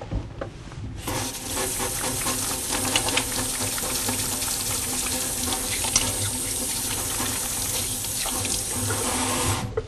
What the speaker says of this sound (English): I'm first going to wash my hands